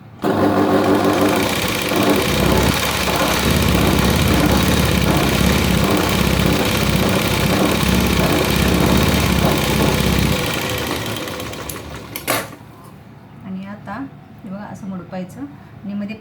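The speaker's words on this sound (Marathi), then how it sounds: "आता हे असं करून किनारी शिलाई मारायची" A sewing machine runs loud and continuous while stitching the edge of a V-neck blouse, then stops near the end, followed by quieter handling sounds.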